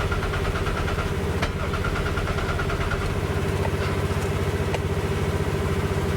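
A stranded vehicle with a key problem, its engine running at a steady rough idle with a low rhythmic rumble and a few faint clicks, close and continuous without talk.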